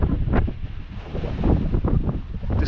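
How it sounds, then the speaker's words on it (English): Strong gusting wind buffeting the microphone on top of Ben Hiant mountain in Ardnamurchan, a loud continuous low rumble with repeated surging gusts. "I don't know if you can hear me over the wind"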